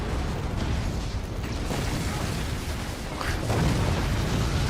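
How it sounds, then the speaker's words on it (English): Two explosions in an arena combat game match, a broad rumbling blast with crumbling debris layered over steady loud noise, a second boom landing near the end. "This is just a double explosion."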